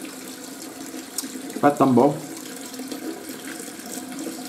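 Tap water runs steadily from a home faucet while waiting for the boiler to deliver hot water, a continuous wash under an Italian-speaking voice.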